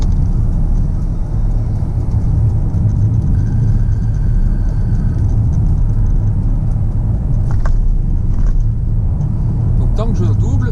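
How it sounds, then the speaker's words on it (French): A car passing slower vehicles on a 70 km/h road, a steady loud engine and road rumble throughout with someone talking over it. "Vu qu'ils roulent moins vite que moi, je prends la décision de les doubler."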